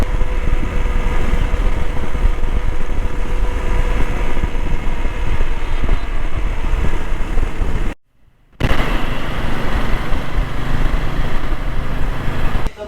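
A motorbike ridden on a road toward Haridwar, a loud continuous engine drone with wind rush that cuts out briefly for a moment near the end before resuming.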